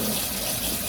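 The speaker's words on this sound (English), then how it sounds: "let's peel and wash our shrimp really, really" Tap water runs in a steady, loud gush while peeled shrimp are rinsed for shrimp and grits, a continuous close splashing stream with no pauses.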